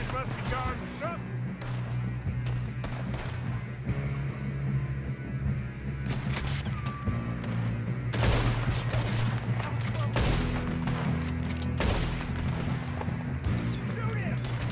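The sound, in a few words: gunfire in a shootout from the video game Red Dead Redemption 2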